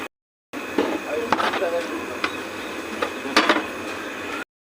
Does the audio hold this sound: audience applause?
no